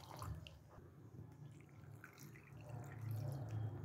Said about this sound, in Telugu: ఇప్పుడు దీనికి మనము చింతపండు మునిగే వరకు నీళ్ళు వేసుకోవాలి